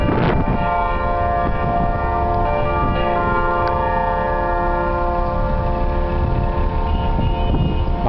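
A church bell in Atlantic City rings out near the start and hums on in a long sustained decay over constant outdoor background noise.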